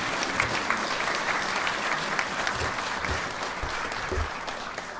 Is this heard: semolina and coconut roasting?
no